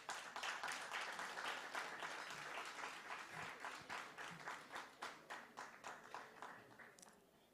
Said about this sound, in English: May you give Prof a hand of applause